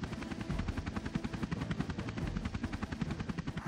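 Rapid rhythmic helicopter rotor thumping from the PS2 video game Army Men: Air Attack – Blade's Revenge, steady and close with a dense low chop and no talk.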